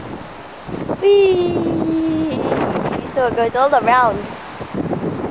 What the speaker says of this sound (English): Ah, it's so windy.